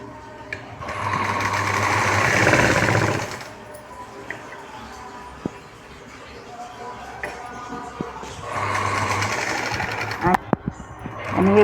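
A sewing machine stitching lace onto a puff sleeve runs in two loud, close whirring bursts, with a quieter stretch of handling and some voice between them.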